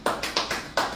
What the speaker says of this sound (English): Okay, can we clap for him?